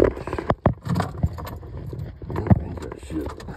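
Car keys jangling close by while someone works on a 2013 Toyota FJ Cruiser's airbag light fault; irregular metallic clinks and rattles in several bursts, with a brief bit of voice.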